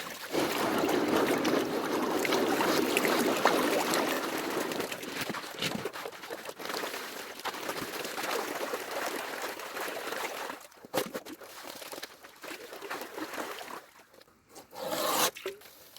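A gold pan being swirled and worked in water in a dry river bed: a steady, close gritty sloshing and rubbing of water and sediment, loud for the first few seconds, then continuing in uneven washes with brief scrapes and splashes.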